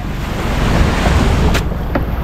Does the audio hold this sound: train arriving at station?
no